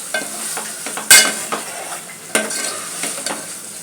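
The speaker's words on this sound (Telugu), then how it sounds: "బాగా మసాలా ఫ్రై అయిపోవాలి." Chicken and masala for a Hyderabadi dum biryani sizzle in a pan while a spoon stirs and scrapes in close, irregular strokes, with a sharp metallic clink of the utensil against the pan partway through.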